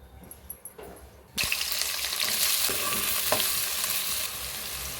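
Oil for a korameenu fish curry pours into a hot pan, starting quiet then breaking into a loud, steady sizzle that holds for several seconds with a few stirring clicks.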